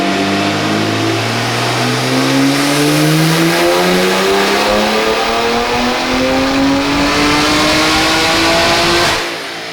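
Manual S58-engined car on a dyno in 5th gear: a loud, steady engine pull with pitch climbing smoothly for about nine seconds before cutting off.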